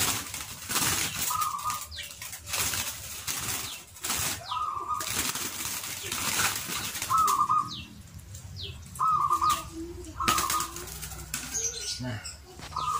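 A male zebra dove (perkutut) flaps its wings in bursts while being caught by hand, with short soft coos and chirps in between and some handling noise, heard fairly close.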